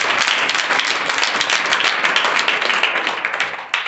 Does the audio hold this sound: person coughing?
no